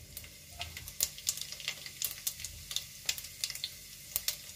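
Cumin seeds crackle and sizzle in hot oil in a pan, a close, steady frying hiss broken by frequent sharp little pops and stirring scrapes.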